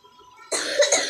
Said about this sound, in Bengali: এই দেখো কাশিও হয়েছে